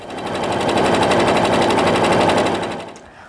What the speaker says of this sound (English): I've got my first sets of two sewn together